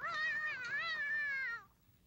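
A cat lets out one long, clear, wavering meow lasting over a second, close and alone, then falls quiet.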